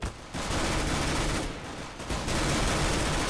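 Rapid gunfire in the video game Counter-Strike: Global Offensive, loud and dense bursts filling most of the stretch with a brief lull midway, no talk over it.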